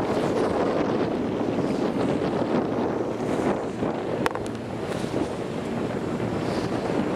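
Wind blows steadily at the base of a wind turbine on a wind farm, a constant rushing roar buffeting the microphone, close and loud throughout.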